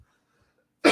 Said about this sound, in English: The cough is not totally gone.